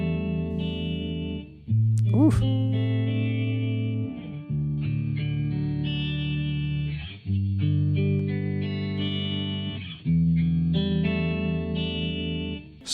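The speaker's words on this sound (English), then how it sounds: "Let's get that cassette plugin on there." A music sample runs through a cassette-style plugin, a warm, wobbly, slightly detuned sustained synth phrase in several looping sections separated by short gaps, played alone.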